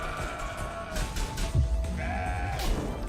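Goats bleating in the video game CrossCode in a wavering, nasal cry over a steady background hum, with a couple of calls overlapping and a low thud midway.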